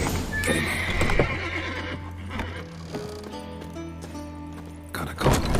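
Horses in The Witcher 3 video game whinny loudly and close by, with clip-clopping hooves and shuffling throughout and a second sharp neigh at the end.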